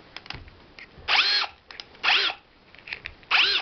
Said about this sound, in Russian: Это мой шуруповерт, что я заказывал с Китая, компания SDEC